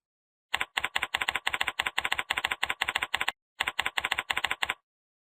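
Computer keyboard typing: rapid, evenly spaced close keystrokes in quick clusters, a brief pause midway, then another run of clicks before stopping.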